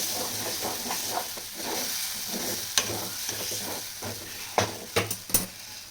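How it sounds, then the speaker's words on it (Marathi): Masala for matki curry roasting in oil and being stirred, with a soft steady sizzle and hiss, scraping strokes, and a few sharp clinks of the spoon against the pan near the end, heard close with no talk. "सगळा मसाला छान भाजला आहे, छान मसाल्याला तेल सुटायला."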